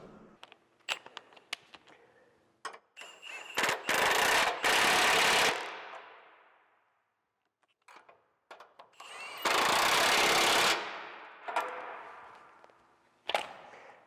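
Two long, loud bursts of a power tool driving screws on a Ford Raptor gen2 Elite light mount, with clicks and handling knocks before, between and after the bursts.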